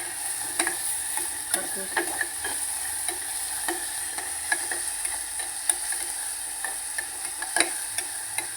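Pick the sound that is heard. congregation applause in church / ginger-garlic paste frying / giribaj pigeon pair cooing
ginger-garlic paste frying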